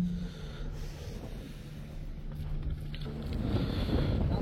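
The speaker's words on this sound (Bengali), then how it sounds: "তবে বাতাস আছে প্রচুর আর শীত ঠান্ডা।" Strong winter wind buffeting the microphone aboard a moving passenger launch on a river, a gusty low rumble with breathy rushes that swells louder near the end, no talk heard.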